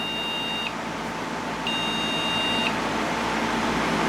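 A computer's high electronic beep code signalling a memory problem sounds alone: one short beep, a pause, then a longer steady tone, over a low background hum.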